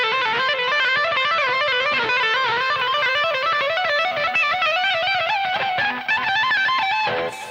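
An electric guitar legato lick with hammer-ons and pull-offs runs as a steady, flowing stream of distorted notes, close and continuous for several seconds, with a short accent near the end.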